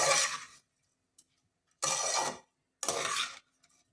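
Rice being stirred and sautéed in ghee in a pan, heard as three separate bursts of scraping and rustling stirring with quiet gaps between them, close and fairly soft, with no talking.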